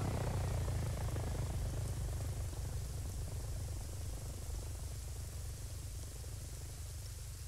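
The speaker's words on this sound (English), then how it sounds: "Helicopter hit the dirt." Helicopter in the military video game ArmA 3, a steady, loud rotor and engine drone with broadband rushing noise, heard alone and slowly fading slightly over several seconds.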